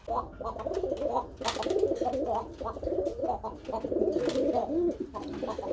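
Pigeons at a farm coo repeatedly in soft, throaty, rolling calls that overlap in near-continuous waves, close by, with occasional sharper noises over them.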